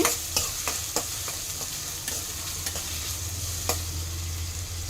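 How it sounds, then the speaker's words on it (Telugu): Onions sizzle steadily in a hot pan for a curry, a continuous frying hiss broken by a few sharp clicks and scrapes of stirring. "టూ మినిట్స్ వేయించుకోవాలండి చూడండి ఈ విధంగా ఆనియన్ వేయించుకోవాలండి"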